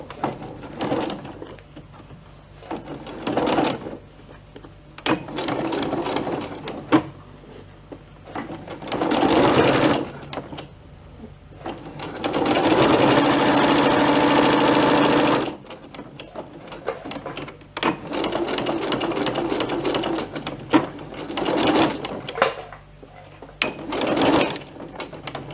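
Sewing machine topstitching thick material in repeated bursts of rapid mechanical whirring, close and fairly loud, separated by quiet pauses, with one long sustained run in the middle.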